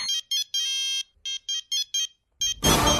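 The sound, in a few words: mobile phone ringing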